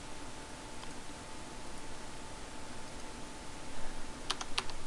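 Quiet, steady typing on a computer keyboard, a run of soft key clicks over a faint hum, with a few sharper taps near the end; no one speaks.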